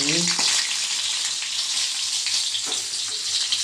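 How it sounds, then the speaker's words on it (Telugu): Boiled egg frying in a spoonful of hot oil, a loud, dense crackling sizzle that stays continuous throughout, with faint stirring touches and no one talking. "ఈ ఆయిల్లో కొంచెం వేడెక్కిన తర్వాత ఈ బాయిల్డ్ ఎగ్ని"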